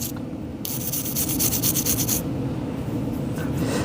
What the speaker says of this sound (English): that's how easy it is to clean rust